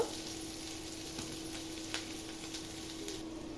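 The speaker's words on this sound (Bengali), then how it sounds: "রসুন আর পেঁয়াজটা বেজে নিব বাগার দেওয়ার জন্য" Garlic and onion frying in oil for tempering, a soft, steady sizzle with faint crackles and an occasional stir, close by and quiet, with no talking.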